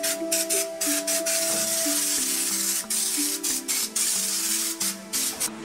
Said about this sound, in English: Connect them all together and spray the dots all over the underside of the car.